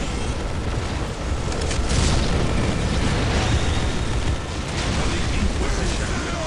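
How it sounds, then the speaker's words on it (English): Orbital bombardment in the strategy game Dawn of War, Imperial Guard against Orks: a dense, sustained roar of explosions and rumbling blasts, loud and continuous throughout with no pauses. "And there's the orbital bombardment."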